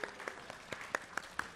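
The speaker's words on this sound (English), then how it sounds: "And now we clap." Audience applause at a TwitchCon 2022 panel on streaming art, heard as a light, fairly faint patter of scattered claps with a few sharper individual hits over about a second and a half.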